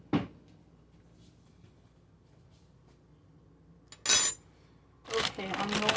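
Metal clatter as a large spoon is pulled from a kitchen drawer, a short clink and rattle followed by a louder scraping jumble of cutlery in a quiet room.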